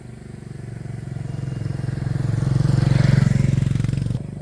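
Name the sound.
scooter passing on road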